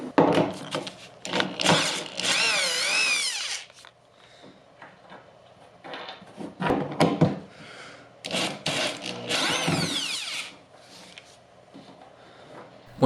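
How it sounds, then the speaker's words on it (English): A power drill or screwdriver backs screws out of an old raw wooden furniture base in several loud whirring bursts, each winding up and cutting off, separated by quieter gaps with light handling noise. "The first thing you want to do when removing the old base is to remove all the screws attaching it on."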